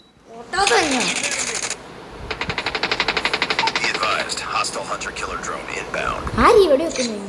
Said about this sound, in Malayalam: ആരീ വെടിവെക്കുന്നു?